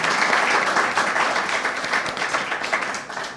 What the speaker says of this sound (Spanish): Pido un aplauso para Johanan Díaz Vargas.